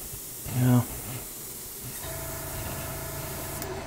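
Badger Sotar 2020 airbrush spraying paint, a soft continuous airy hiss that carries on steadily after a short louder burst, with someone talking over it.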